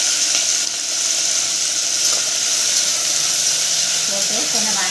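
Chopped tomatoes and green chillies frying in a pan, a loud, steady sizzle that holds throughout, with faint voices or kitchen sounds underneath near the end.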